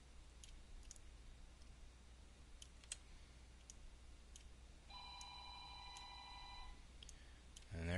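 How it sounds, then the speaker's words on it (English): A phone rings with a short electronic tone burst lasting about two seconds, faint under quiet background hiss and scattered clicks in a home workspace. "There goes my phone on cue."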